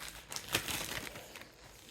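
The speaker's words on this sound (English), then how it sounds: "just a plastic bag" Plastic bag handled close by during tissue-paper crafting, a soft, brief burst of crinkling and rustling, quiet and without talk.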